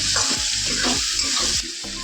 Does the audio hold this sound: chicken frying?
yes